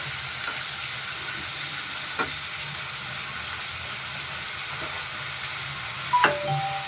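Oil sizzles steadily as spices for kabab masala fry in a pan, a dense continuous hiss with a few sharp clinks of a utensil against the pan near the end.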